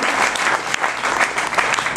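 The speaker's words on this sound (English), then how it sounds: "I'd like to give a big round of applause to you guys for coming out." Steady applause from an audience at an awards event, a dense wash of clapping hands that continues without pause.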